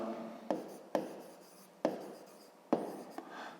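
A pen writes on paper during a fifth-grade maths exercise on angles and rays, making four distinct tapping strokes with soft scratchy scribbling between them, close and quiet, with no voices.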